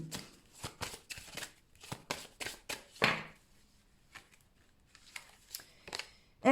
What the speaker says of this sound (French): je prends une carte de l'oracle Akaba